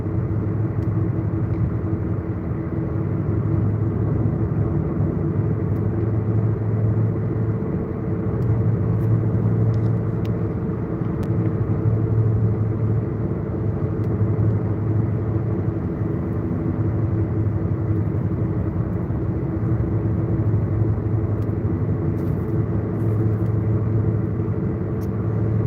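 A car drives along a highway access road in hot weather, a steady low road rumble and engine drone from inside the cabin, constant and unbroken, with no talking.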